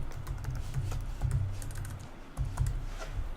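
Fingers tap out an email address on a computer keyboard, a quick irregular run of close, soft key clicks with no voices.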